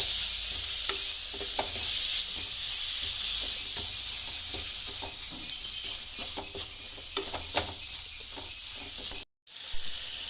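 Tomato paste is stirred into a sizzling curry masala for a cauliflower potato curry, a steady frying hiss with scraping stirs, alone and close, with a brief dropout near the end.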